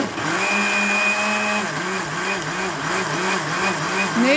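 A blender whirs continuously while mixing a milkshake with ice, its motor pitch wobbling up and down in a steady rhythm as the blades churn, loud and close.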